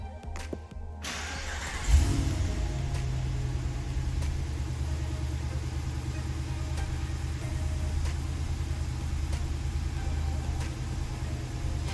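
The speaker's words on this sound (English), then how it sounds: "I'll now just get inside this vehicle and turn it on for you." A 2023 RAM 2500 Big Horn crew cab pickup with push-button start cranks and fires up, then settles into a steady low idle rumble that continues evenly, close by with no talking.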